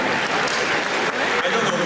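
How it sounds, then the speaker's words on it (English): Steady applause from an audience at a conference session, a dense continuous wash of many hands clapping at moderate loudness throughout. "I don't know why you're applauding for this."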